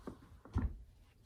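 Drawer in a bedroom being opened or closed, a faint soft thump followed by a short scrape, with quiet room noise around it.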